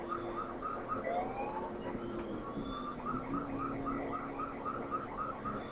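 A police siren in a video game wails and yelps repeatedly at moderate volume over a low rumbling 1964 Chevrolet Impala, the pitch sweeping up and down in quick cycles.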